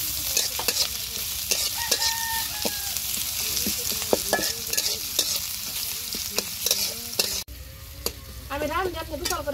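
Garam masala and chopped onion hit hot oil in a wok, sizzling steadily while a spatula scrapes and clacks in irregular strokes close by; near the end the frying turns softer and bubblier.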